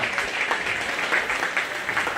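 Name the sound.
round of applause at a county fair sheep show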